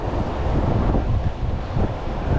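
Strong wind blowing across open water near a rocky jetty, a steady loud roar of gusts buffeting the microphone, with no voices.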